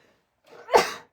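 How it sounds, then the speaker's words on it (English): A single close sneeze bursts out after a short breathy intake, loud and abrupt, with no talk around it. "Oh, I felt that sneeze coming. I was hoping it wouldn't come out, but it did."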